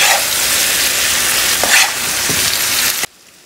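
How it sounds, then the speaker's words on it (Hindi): Potatoes and cauliflower frying and being gently mixed in a pan for aloo gobi, a loud steady sizzle with stirring scrapes, cutting off abruptly near the end. "आलू और गोभी दोनों मैं इसमें ऐड कर दूँगी। ये सब चीज़ों को हमें बहुत हल्के हाथों से मिक्स करना है।"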